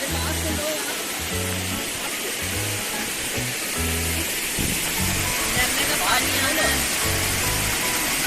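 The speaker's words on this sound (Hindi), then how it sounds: "बोलिए भाई कुछ इस झरने के बारे में, कैसा लगा आपको ये झरना?" A waterfall along a mountain road trip between Narkanda and Chitkul gives a steady, loud broadband rush throughout, with voices talking over the roar.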